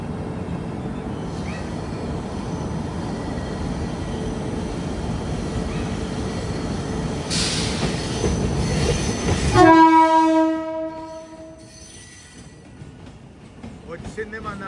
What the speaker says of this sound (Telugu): Local train is coming.